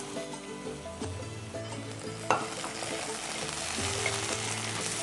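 Tomato pieces frying and being stirred with sautéed onion in a pan, a steady close sizzle with scraping stir strokes and a sharp clatter partway through; background music plays throughout.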